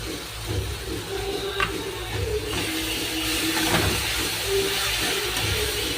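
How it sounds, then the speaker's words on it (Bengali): Yogurt goes into a pan of hot oil while making butter masala chana, giving a steady, fairly loud sizzling hiss that holds for the whole stretch with no talking. "কিছুক্ষণ ভাজার পরে এবার আমি দইটা দিয়ে দেব।"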